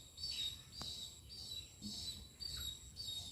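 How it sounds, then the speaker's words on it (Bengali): Faint bird calls ring out in a quiet village outdoors, thin high chirps repeating over a soft background of insect-like hum, with no talk. "এই দেখো এসছে একটা পাখি"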